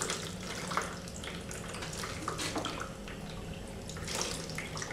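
Water poured from a zeer jug over a hand during handwashing, a steady, close splashing and trickling stream that runs continuously without talk.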